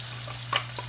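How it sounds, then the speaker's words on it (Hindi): Blended tomato and spice masala fries in oil for egg curry, giving a soft, steady sizzle under a low hum, with a brief clink near the end. "अब ये दोबारा कुक होता है, मसाला इसका भूनता है अच्छी तरह, इसका ऑयल ऊपर आएगा"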